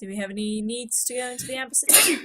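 A single sharp sneeze bursts out at the end, right after a stretch of someone talking, close and loud in a quiet indoor room.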